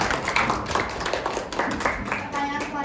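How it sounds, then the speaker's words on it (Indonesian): Audience clapping at a high school panel discussion at SMAN 4 Cibinong: a dense, steady patter of many hands with murmuring voices mixed in, filling the whole stretch at moderate loudness. "Mari kita beri tepuk tangan."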